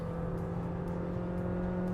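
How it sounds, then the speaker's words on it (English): A Honda Elevate engine hums at a steady, high-pitched drone, revved toward the red line while downshifting, heard from inside the car, held consistently without pauses. "So it revs so much, you're going all the way to the red line."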